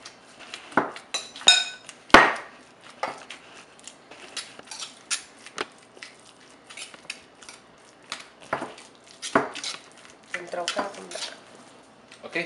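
Ingredients for Cambodian pahut meat patties are mixed in a mortar, with scattered clinks and scrapes of utensil against the bowl, sharp knocks and irregular bursts of close stirring noise.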